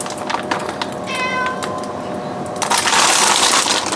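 A house cat meows and whines close by, making a drawn-out harmonic cry in the middle and scattered shorter calls, followed by a rustling clatter. No voices.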